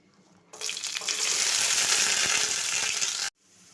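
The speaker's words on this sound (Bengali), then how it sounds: "এবার তেলে দেওয়া হলো ছোট ছোট করে কেটে রাখা আলু।" Diced potatoes dropped into hot oil burst into a loud, steady sizzle that holds for almost three seconds and then cuts off abruptly. This is for Bengali mocher ghonto.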